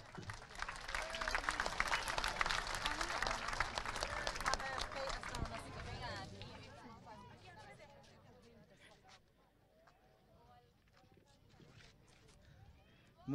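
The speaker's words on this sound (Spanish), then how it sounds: "los recibimos con un caluroso y fuerte aplauso" An audience at a university campus handover ceremony in Tarija, Bolivia, claps in loud, sustained applause that gradually fades into scattered claps and crowd murmur before a voice begins.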